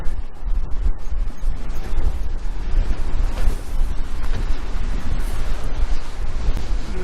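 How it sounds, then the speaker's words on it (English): Steady roar of sea surf breaking along a beach at Sutton on Sea, broad and continuous, with gusts of wind buffeting the microphone throughout. "Waves all crashing down."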